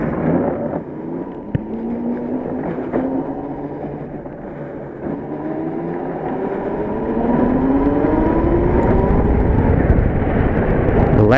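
An electric mini bike motor drives a go kart, giving a whirring whine that climbs in pitch again and again as the kart speeds up. It is steady, fairly close and grows slightly louder near the end.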